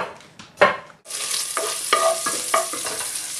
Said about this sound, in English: So once the bacon is halfway to brown here